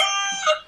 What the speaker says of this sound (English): Mr. Musset, the cockerel.